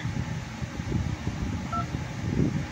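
Telephone keypad tones on a call to Apple support's automated menu, a few short beeps sounding over a low, steady murmur of background noise.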